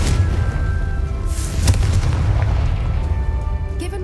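Confringo blasting spell going off in Hogwarts Legacy, a loud booming explosion over a dense rumbling game backdrop, with a sharp crack in the middle and a lingering roar afterward.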